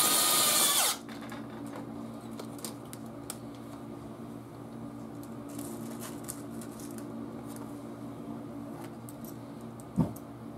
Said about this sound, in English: Using the self-tapping screws that we used earlier. So you're just screwing that to the metal frame of the workbench.